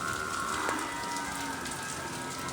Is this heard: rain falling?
yes